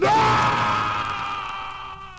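A drawn-out scream from a horror movie trailer for The Telltale Heart, a loud bellowing cry that starts sharply and holds strong for about two seconds, slowly fading with a sustained harmonic wail.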